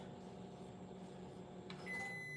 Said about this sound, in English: We don't want to mess up the microwave.